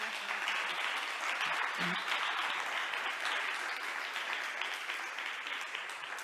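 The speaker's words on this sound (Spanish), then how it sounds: "con un fuerte aplauso" At a summit session, the audience gives steady, sustained applause, a dense wash of many hands clapping at an even level, heard faintly and from some distance.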